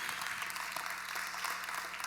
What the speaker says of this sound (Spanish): ¿Aplauden o aplauden?